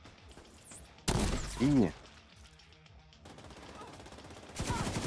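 Gunfire in The Division 2 comes as two short, sharp bursts, one early and one at the end, with a voice briefly heard between them.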